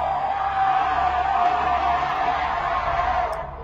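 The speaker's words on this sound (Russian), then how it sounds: "как же он орёт. Это Огр Тинки-Винки. Да, это Тинки-Танк." A loud, continuous monster roar from the Tinky Tank ogre creature in a video game sound-guessing quiz, a sustained bellowing yell held for several seconds that tapers off slightly at the end.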